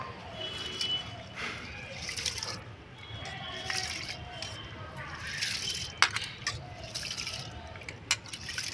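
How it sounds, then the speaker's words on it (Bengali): Soaked rice being washed by hand in water, rubbed between the palms in a kitchen: soft wet swishing and light clattering of grains against a bowl, steady and close with occasional sharper splashes. "চালটা ভালো করে ডলে ধুতে হবে, নাহলে চালে অনেক ময়লা থাকে।"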